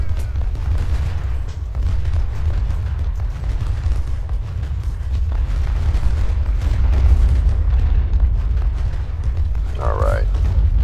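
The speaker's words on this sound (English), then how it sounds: "These cannons should do a lot of good now." Cannon artillery fire in the Civil War strategy game Ultimate General: Civil War: a continuous loud rumble of booming cannon shots and battle noise fills the whole stretch, with a brief higher tone near the end.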